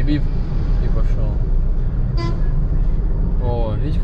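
Car horns toot in dense road traffic heard from inside a moving vehicle, short beeps over a constant engine and road rumble, with people talking throughout.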